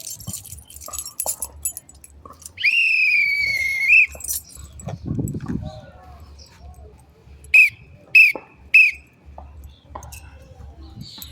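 A shrill whistle blows once in a sustained wavering tone, followed later by three short sharp toots, with faint rustling and clinks between.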